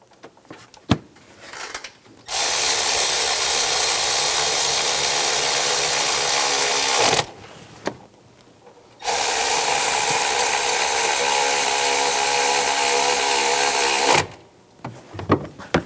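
A power tool drives in the serpentine belt tensioner bolts on a 2007-2014 Cadillac Escalade 6.2L V8, running loud in two long steady bursts of about five seconds each, with short clicks and pauses between them.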